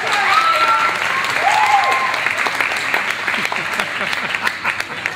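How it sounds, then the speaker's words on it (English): Audience applause for a dancer at an adult open standard ballroom final, steady loud clapping from the crowd that fills the room and eases slightly toward the end. "Give him a round of applause, ladies and gentlemen."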